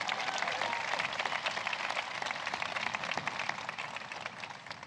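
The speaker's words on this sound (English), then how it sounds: "Please, another round of applause for our amazing speaker." A crowd at a White House bill-signing event for the CHIPS and Science Act gives a sustained round of applause, a dense, fairly distant wash of clapping that slowly tapers off.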